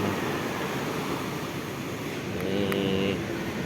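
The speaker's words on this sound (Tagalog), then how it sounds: "Ewan ko lang pag ganito kalalaki yung alon" Big waves from a rough sea break on the shore on a rainy day, a steady loud roar of surf with wind noise, continuous and fairly close.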